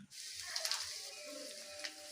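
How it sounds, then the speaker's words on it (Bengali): Ten to twelve garlic cloves and chilli fry together in hot oil for a Bengali ridge gourd and prawn paste dish, giving a faint, steady sizzling hiss with a few brief crackles. "লঙ্কাটা অনেকটাই ভাজা হয়ে গেছে এর মধ্যে দশ থেকে বারো কোয়া রসুন দিয়ে দিলাম"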